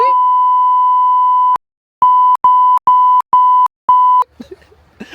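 A loud steady electronic censor beep runs alone, then breaks into five short repeated bleeps, followed by a brief rustle.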